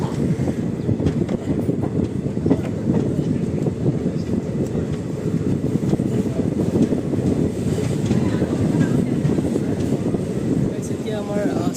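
Heard from inside a moving train near Chilapathar, a continuous low rumble and rattle of the carriage runs steadily throughout.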